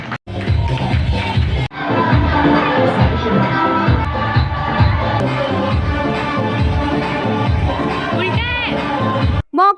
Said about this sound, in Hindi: ताली ताली प्लीज ताली।